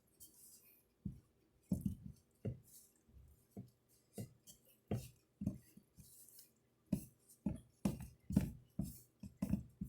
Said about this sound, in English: we're gonna mix that in there